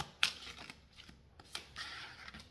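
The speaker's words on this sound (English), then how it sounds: "3 more shuffles." A deck of cards being shuffled up close at a quiet table, with a few crisp riffling bursts and soft handling sounds between them.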